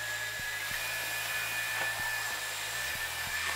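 EZVIZ RH1 wet-dry vacuum cleaner running steadily with a constant high whine and airflow hiss, making another pass over spilled debris including eggshell, close and continuous with light knocks as it moves.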